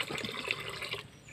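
Water splashing and pouring over rice grains as they are washed by hand, a close, steady wet swishing that tapers off near the end, with no voices.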